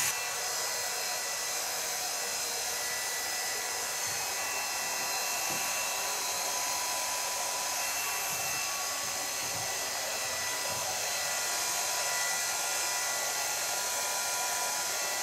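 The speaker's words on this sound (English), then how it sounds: "I will use the diffuser to get out all the shape she has to create a nice curly effect" A hair dryer fitted with a diffuser blows continuously on curly hair, a loud, even whooshing drone that holds steady from start to finish, close by and without speech.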